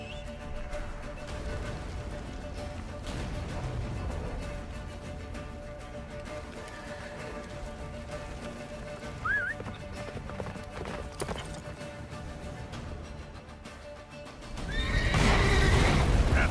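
Roach the horse galloping through a blizzard toward a fortress in The Witcher 3, with steady, close hoofbeats running throughout and a louder, fuller burst of movement near the end, with no talk.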